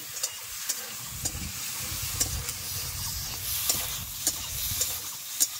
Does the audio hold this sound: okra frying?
yes